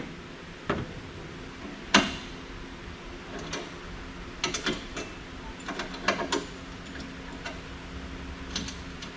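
Ratchet wrench clicking in short irregular bursts while removing the motor from a scrapped dentist chair, close and moderately loud over a low background hum.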